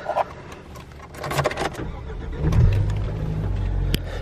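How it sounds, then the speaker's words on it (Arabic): A Nissan Navara Standard pickup is started at a dealership showroom: a few clicks and key sounds, then the engine cranks and catches, settling into a steady idle hum up close. "شغل السيارة."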